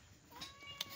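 A cat meows in short, faint calls, two quick mewing cries in a quiet kitchen setting.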